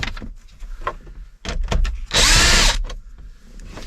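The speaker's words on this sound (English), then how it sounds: "use a 9/32 socket to remove those screws" A powered socket driver with a 9/32 socket removes screws from a Ford Super Duty dash, with one loud sustained whir after several clicks and handling knocks.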